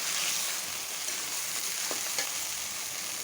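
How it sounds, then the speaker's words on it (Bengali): Garlic and onion frying in mustard oil for a sweet-sour mango pickle: a steady, faint sizzle throughout with a couple of small stirring clicks. "এখানে সরিষার তেলটা দিয়ে দিছি, এখানে রসুন আর পেঁয়াজগুলি দিয়ে দিব।"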